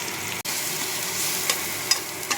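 Ground coriander, Kashmiri red chilli and a little sugar frying in a pan before lote fish is added, giving a dense, even sizzle close up with a few faint stirring ticks.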